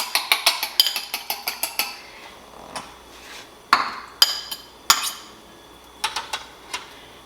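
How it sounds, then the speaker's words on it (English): A single egg beaten in a bowl: a quick, steady run of bright clinks from the utensil striking the bowl, then slower, scattered taps and clatter, fairly close and with no talking. "I put 1 egg in here, and I just beat it like you can make scrambled eggs"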